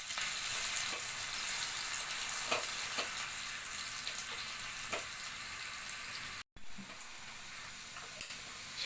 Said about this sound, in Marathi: लसूण थोडं तांबूस झाला की आपण याचा हा तडका आपण या आपल्या भाजीवर घालून देणार आहोत